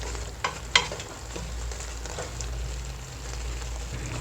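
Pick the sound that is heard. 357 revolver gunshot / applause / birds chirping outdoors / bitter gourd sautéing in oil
bitter gourd sautéing in oil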